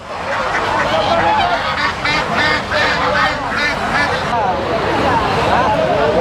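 Geese honk and ducks quack over and over at a busy rural poultry haat in Chandaikona, a loud, dense chorus of overlapping calls with a steady hubbub of crowd voices underneath.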